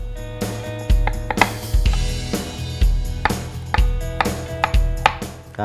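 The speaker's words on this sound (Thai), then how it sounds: "หั่นแว่นแล้วเดี๋ยวซอยเส้นนะครับ" A knife slices galangal steadily against a cutting board, close by, with firm, evenly spaced strikes and a low background hum.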